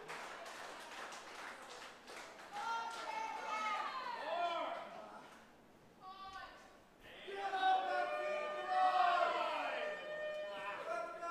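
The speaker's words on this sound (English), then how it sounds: "The crowd chanting for who they want to win" Crowd at an 880 Wrestling match chanting and cheering, rising and falling voices with sing-song swells, a brief lull midway before the chant surges back louder, with people talking amid the noise.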